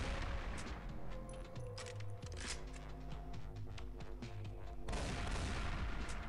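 Gunfire from the mobile shooter Pixel Gun 3D, played on an iPhone: a dense, loud run of shots and booms firing nonstop over in-game music and effects, with no voice over it.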